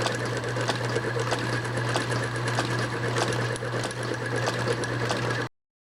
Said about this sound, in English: we're just going to cut this shaft down just a little bit and thread it and install it